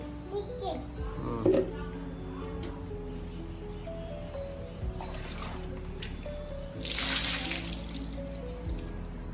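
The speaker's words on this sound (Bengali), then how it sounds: "নিজে নিজে বালতি পড়লো কিন্তু নিজে নিজে স্নান করছে" A young girl bathes herself with water poured from a bucket. Splashes and pouring sound close by, with a louder gush near the end, while a child and an adult talk throughout.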